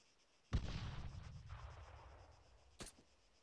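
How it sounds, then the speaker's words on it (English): Explosions in the video game Arma 3: one sharp, heavy blast with a long rumbling decay, then a second smaller boom about two seconds later, moderately distant and alone. "Explosions."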